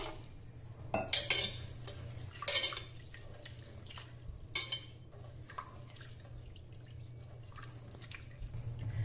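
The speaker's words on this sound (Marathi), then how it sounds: "पाणी घालून 2-3 वेळा स्वच्छ धुवून घेऊ।" Unpolished toor dal being rinsed with water in a pressure cooker, with clinks of metal and pot, dripping and sloshing, and a few louder clattering bursts over a steady low hum.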